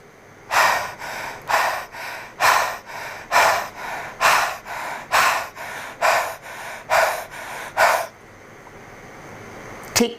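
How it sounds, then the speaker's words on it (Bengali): Forceful breaths through the mouth with the tongue stuck out come in a steady rhythm, about fourteen loud panting exhalations close to the mic, followed by quiet. "জিহ্বাটাকে যতটুকু বের করা সম্ভব আমরা বের করে জোরে জোরে শ্বাস নেব"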